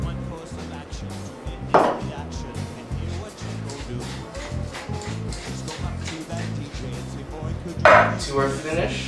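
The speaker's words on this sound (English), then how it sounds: "Finish chopping up the meat." A knife chops beef into stew pieces on a board in an Antigua and Barbuda kitchen, a fast steady run of close, crisp thuds, with two harder knocks standing out and faint talk underneath.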